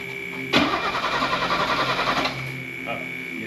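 A Mercedes SL Pagoda engine, left sitting for 40 years, cranks and catches with a sudden loud onset, running roughly for about two seconds before dropping away.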